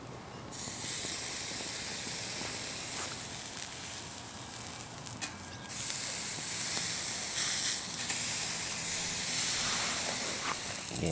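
A New York steak sizzles on a wood-burning firebox at a cold outdoor motorcycle campsite, a steady hiss and crackle that swells louder in the second half.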